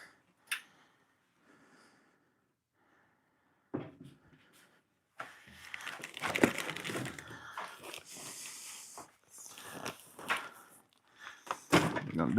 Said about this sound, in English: Oh, so the top has to be open to open the drawers.